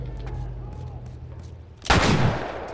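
A single loud gunshot from The Last of Us Remastered video game bursts out sharply after a stretch of quieter game ambience, followed by a brief ringing decay.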